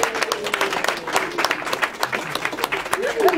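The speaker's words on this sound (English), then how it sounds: "can I just have a round of applause for my little daughter?" A small party group claps enthusiastically nearby for a young girl, in a brief burst of applause with some voices mixed in.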